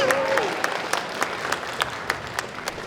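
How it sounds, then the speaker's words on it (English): On the main stage of the Tucson Japanese Festival, a series of sharp, evenly spaced claps rings out, moderately loud over a quiet outdoor background, with a brief voice-like tone at the start. "A round of applause for Karen and Nicole."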